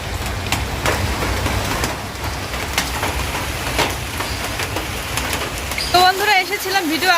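Steady rain pours down during a night of flooding downpour, heard from a sheltered veranda as a continuous close hiss with scattered drips, and a brief voice rises over it near the end.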